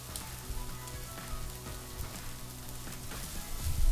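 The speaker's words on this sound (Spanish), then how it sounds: "vamos a echar el puerro y lo vamos a pochar" Chopped leek sizzles and fries in a pan alongside browned chicken for a chicken and mushroom pie filling, a steady close crackling sizzle throughout with occasional stirring scrapes.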